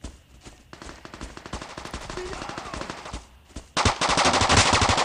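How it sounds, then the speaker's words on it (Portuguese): Rapid automatic gunfire from the shooter game Bullet Force rattles in dense bursts, with a brief pause before a louder, heavier stream of shots. "Você tá atirando, hein?"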